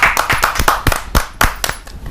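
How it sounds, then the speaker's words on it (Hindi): Clapping from a handful of people nearby at a Hindi poetry gathering, irregular and fairly loud, lasting a couple of seconds. "इनका तालियों के साथ स्वागत करें।"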